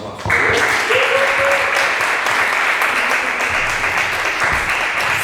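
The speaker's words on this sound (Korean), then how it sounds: "다시 한번 박수." A congregation at a Sunday church service breaks into loud, sustained applause that fills the room steadily from start to finish, with a faint voice briefly heard beneath the clapping.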